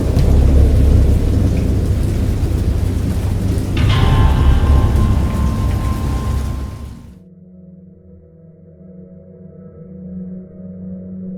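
Heavy rain pours down with deep rolling thunder in the video game Dagon, a loud, continuous storm with a sharp crack partway through, then it cuts to a quiet low hum.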